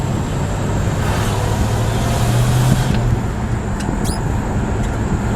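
A 1963 Ford Falcon Futura's 260 cubic-inch V8 with four-speed manual drones steadily from inside the cabin while driving, with a low hum rising slightly mid-way, plus faint squeaks.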